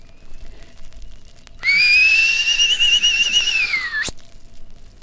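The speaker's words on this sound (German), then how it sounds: "Ich mach dir meinen Pfiff vor." A man whistles a signal tune alone, a single sustained, wavering call lasting about two and a half seconds that rises slightly then slides down at the end, clear and close over a quiet background.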